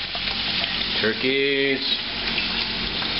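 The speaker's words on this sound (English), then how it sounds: "And then I'm frying these in some bacon grease that I had left over from the bacon I fried earlier." Oysters fry in leftover bacon grease, sizzling steadily and close throughout, with a brief spoken word in the middle.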